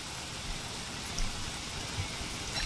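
Steady rain in the video game Don't Starve hisses as a constant broadband wash, moderately quiet and even, with no voices over it.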